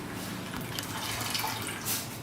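Clean water runs and splashes as flattened rice (poha) is rinsed in a kitchen, a close, continuous trickling wash with a few brief sloshes.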